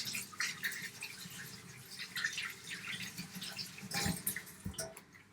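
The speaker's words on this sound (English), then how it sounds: "I'm going to wash my hands again" Hands washed under a running kitchen tap during baking, a steady close splashing and dripping of water with small irregular surges, no talking.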